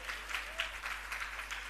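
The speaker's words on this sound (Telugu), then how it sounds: "చప్పట్లు కొట్టి దేవుని స్తోత్రం." A church congregation claps together in praise at a Christmas service, a sustained burst of steady, fairly loud applause with no talking over it.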